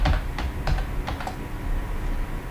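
Close computer keyboard typing a line of C code, a printf statement, with a quick run of about five keystrokes in the first second and a half, then sparser faint taps over a steady low room hum.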